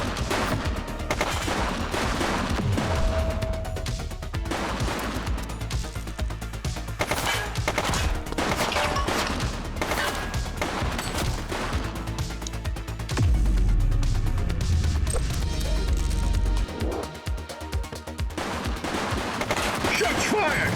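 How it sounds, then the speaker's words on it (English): Gunfire in the police game The Precinct: dense bursts of shots and rapid automatic fire crackle through a busy, loud mix with game effects, the volleys continuing throughout. "Shots fired!"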